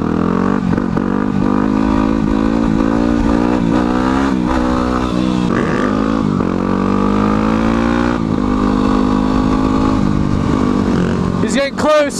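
A motorcycle engine roars loud and close while being ridden, its pitch rising and falling through repeated revs, with a sharp rev spike near the end and voices talking over it.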